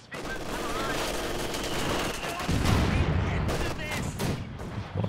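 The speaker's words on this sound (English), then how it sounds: "Mortar half tracks, they are really lighting up the Axis at the moment." Mortar half-track fire and battle noise in the real-time strategy game Company of Heroes 2, a dense barrage of gunfire and thumping launches with a louder burst midway, under a steady din of combat.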